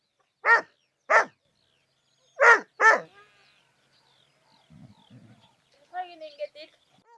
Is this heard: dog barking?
yes